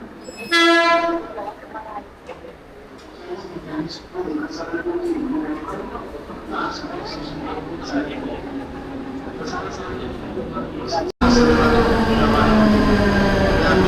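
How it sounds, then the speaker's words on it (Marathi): A Harbour Line local train arrives at platform number 2 with a loud horn blast, then a steady rumble of wheels and carriages with squeals. Station announcements play over the noise, which ends in a loud roaring passage. "Wadala road via Harbour Line is arriving on platform number 2."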